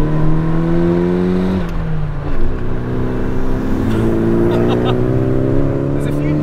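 A Nissan Silvia S13 hums steadily from inside the cabin while driving, its engine tone dropping briefly at a shift before settling again, with someone talking over the drone.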